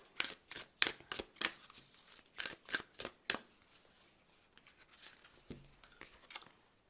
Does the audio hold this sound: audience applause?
no